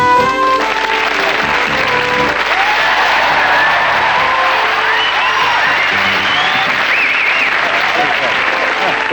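A television studio audience applauds loudly and continuously, with dense clapping, some cheering and whoops rising over it throughout.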